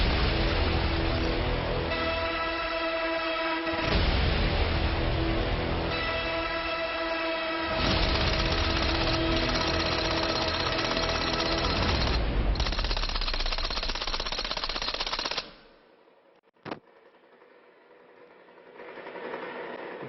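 Sustained, rapid bursts of automatic fire from an MMG on an infantry weapons training simulator, loud and continuous for about fifteen seconds with brief pauses, then stopping abruptly into quieter background noise with one sharp click.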